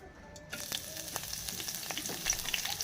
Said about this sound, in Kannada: ನಾನು ಎಣ್ಣೆ ಬಿಸಿ ಮಾಡಾಕಿದ್ದೀನಿ ರೀ ಸ್ವಲ್ಪ ಕೊತ್ತಂಬರಿ ಹಾಕೊಳ್ಳೋಣ